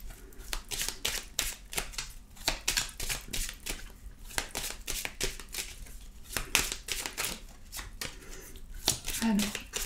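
Petit Lenormand cards are shuffled by hand for a nine-card reading, making a steady run of close, crisp riffling and flicking bursts that repeats throughout.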